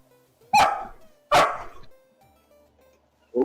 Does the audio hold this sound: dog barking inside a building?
yes